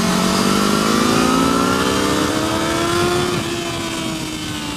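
A Ducati Hypermotard motorcycle engine revs up toward redline, its note rising steadily in a loud, close, continuous whine before easing slightly at the end.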